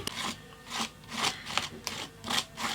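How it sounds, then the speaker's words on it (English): Paste scraped through a stencil onto an altered playing card with an old credit card: soft, rhythmic raspy scrapes, about six strokes in quick succession, fairly quiet and close. "I've actually found that the old credit card is the best thing for scraping paste and that sort of thing through stencils."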